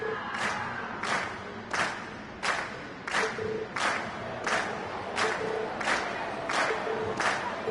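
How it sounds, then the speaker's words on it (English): A crowd cheers and chants after a stage performance, shouting in regular rhythmic bursts about every two-thirds of a second, fairly distant and moderately loud. "we've heard your cheers loud and clear"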